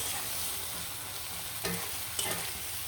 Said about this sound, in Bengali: দিয়ে ভালো করে লাড়াচাড়া দিয়ে কিন্তু খুব সুন্দরভাবে ভেজে নেব